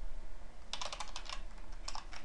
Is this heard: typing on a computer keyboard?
yes